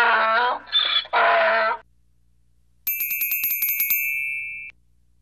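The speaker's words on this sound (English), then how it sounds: "A donkey brays." A donkey brays in a short, harsh, strained burst of alternating rasping tones, followed by a bright, tinkling chime effect.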